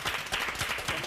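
Brief, light clapping from a small group of people in a room, a few sharp claps, fairly soft and close, with no talk over it.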